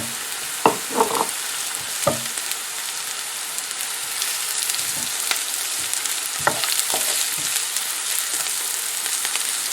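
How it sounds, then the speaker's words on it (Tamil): Green chilies, ginger and garlic sautéing in a pan for curry, a continuous close hiss of frying oil with a few spatula scrapes and taps early on. "நான் இதுக்குள்ள வெட்டி வச்சுருக்கிற பச்சை மிளகாய், இஞ்சி, உள்ளி எல்லாத்தையும் இப்போ போட்டு வதக்குவோம்."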